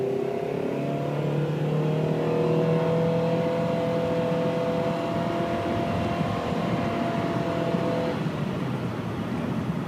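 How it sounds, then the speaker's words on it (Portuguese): Honda Civic Sport sedan engine droning at a steady high rpm while accelerating, a loud continuous near hum with sustained harmonic tones that hold nearly flat for about eight seconds. "o carro fica gritando, né, num giro constante enquanto você tá tentando acelerar"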